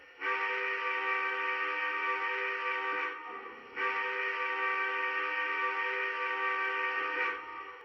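Two sustained, reedy toots from a Lionel Dreyfuss Hudson model locomotive whistle, close and clear, with a short gap between them.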